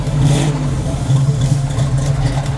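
A 1979 Camaro with a swapped manual transmission revs loudly and close by, its deep steady rumble surging gently throughout with no break.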